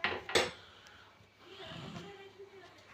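A metal lid set down on a cooking pot while bajra rotla curry simmers in a home kitchen, giving a sharp clatter near the start followed by soft cooking sounds, with a voice speaking.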